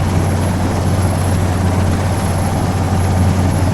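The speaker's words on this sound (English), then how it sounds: "the chopper's going to take us in now" Helicopter from the video game ArmA 3 flying in, a steady loud rotor and engine drone with deep low thumping that holds constant throughout, no voices over it.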